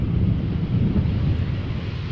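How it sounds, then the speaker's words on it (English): Steady wind roars and buffets the microphone outdoors at Amsterdam Schiphol Airport, a continuous low rumbling gust that stays loud throughout without any talk. "the wind is actually starting to pick up a little bit"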